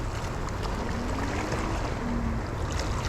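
Big waves wash and slosh against a small fishing boat at sea amid a constant roar of wind and water, with no clear voices.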